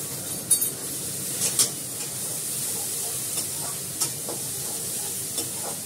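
Masala being stir-fried in plenty of oil in a pan, a soft continuous sizzle with scraping stirs and a few sharp clinks of the spoon against the metal.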